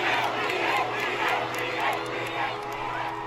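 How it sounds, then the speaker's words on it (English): A large concert crowd roars and cheers wildly in a steady, dense wall of noise, with scattered shouts rising out of the din for the whole stretch. "The crowd going mad for me"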